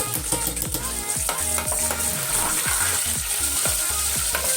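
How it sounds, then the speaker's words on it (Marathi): Garlic and green chillies frying in a pan after cumin, a loud continuous crackling sizzle with regular spatula scrapes and taps, no talking. "आता लसूण मिरची थोडीशी आपण फ्राय करून घेऊया"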